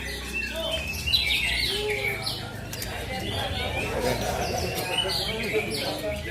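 A white-rumped shama (murai batu) sings at a bird contest, sending bright chirps, whistles and trills through a busy outdoor scene with other birds calling nearby and people talking in the background.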